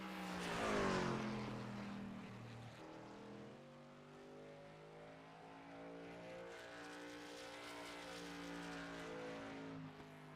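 A race car roars down the backstretch at Richmond during practice laps, engine note rising and falling steadily with a Doppler-like sweep as it passes, loud and alone without talk.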